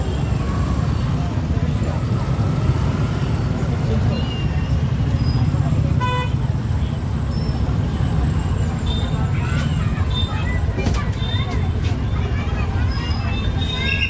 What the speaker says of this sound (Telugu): మస్తు ట్రాఫిక్ ఉంది